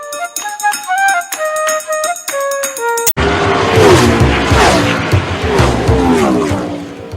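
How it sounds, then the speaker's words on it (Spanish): A racing car sound effect follows a short musical jingle that cuts off abruptly. Loud engines then roar and sweep past with screeching tire squeal, dense and continuous to the end. "Y ahí estamos escuchando ya los motores"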